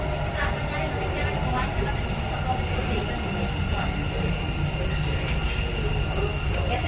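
A Dubai Metro train pulls into Burjuman station, a steady, loud mechanical rumble and rolling roar filling the platform with continuous low-end noise, station ambience and some voices mixed underneath.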